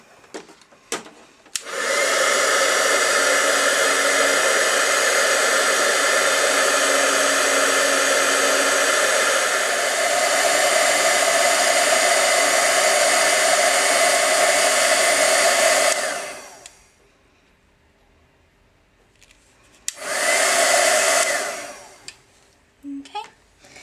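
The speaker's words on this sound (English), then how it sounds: "and then I'm going to heat emboss" Heat gun embossing metallic cogs on paper for a handmade card, blowing loudly and steadily for about fourteen seconds, then stopping and starting again for a short second burst.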